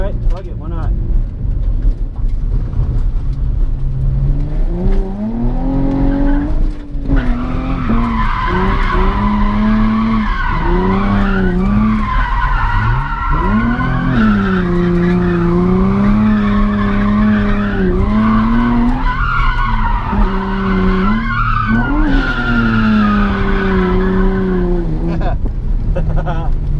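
A car drifting on a track produces continuous loud tire squeal and skidding, with wavering engine revs rising and falling throughout, very close and sustained.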